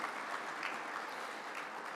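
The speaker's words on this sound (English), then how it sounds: "let's give a round of applause to all of our sponsors" An audience at a sports award ceremony applauds the sponsors, a dense, steady wash of many hands clapping at even loudness throughout, without pauses.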